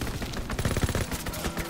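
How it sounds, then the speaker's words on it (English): Call of Duty WWII gameplay with a strafing run: rapid bursts of close machine-gun fire rattle in quick overlapping volleys throughout the short clip. "Strafing run inbound."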